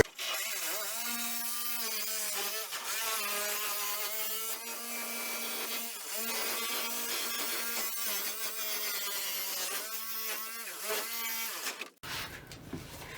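Power saw with a fine blade cutting through a Sprinter van wall for a window opening, a loud sustained whining buzz with wavering pitch over twelve seconds, then cutting out abruptly into brief rustling.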